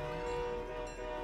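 A train in the Fortnite video game passing close with a sustained horn-like tone over rumbling wheels, loud and steady throughout the short stretch.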